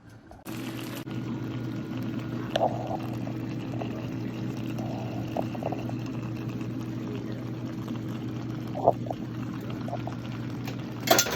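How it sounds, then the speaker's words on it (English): Greens simmering in a covered pot on low heat, a steady close bubbling hiss with occasional faint clinks, no talking. "cover this and just let these simmer for the remaining 20 minutes"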